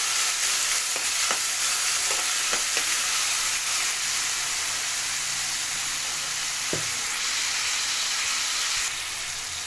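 Tomato pieces and ginger-garlic paste frying in a pan give a steady, close sizzle with broad hissing throughout, dotted with a few light clicks and pops.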